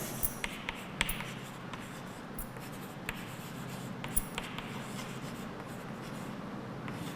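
Pen writing on paper during a grammar homework task, with quiet continuous scratching strokes and occasional small taps, faint and close, without talking.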